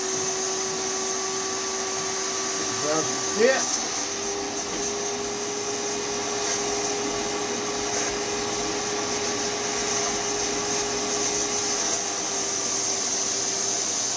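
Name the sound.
vacuum cleaner running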